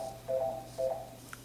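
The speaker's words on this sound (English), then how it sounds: "I'm sorry my phone rang." A mobile phone rings indoors in two short, moderately quiet electronic bursts about half a second apart, over a steady low background hum.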